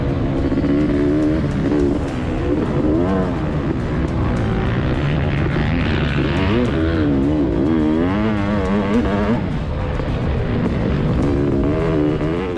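2024 Honda CR500 two-stroke motocross bikes racing the final lap, a loud, continuous engine wail rising and falling in pitch as throttles open and close.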